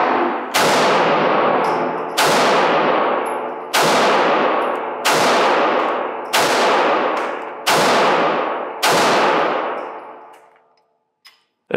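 Seven loud, sharp gunshots from a Springfield Echelon pistol ring out at a steady pace about one and a half seconds apart, each with a long decaying echo, and no one speaks between them.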